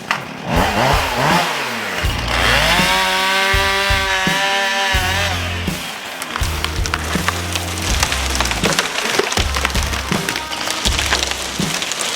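Chainsaw cutting down trees for an off-grid tiny house build, a loud revving engine held close through long cuts, then rougher bursts as the bar bites and the wood splinters.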